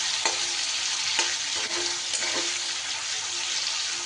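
Fish fat sizzling in its own rendered oil in a kadai with a pinch of salt, a steady bright crackling hiss with a few sharp pops, close and continuous, with no voices.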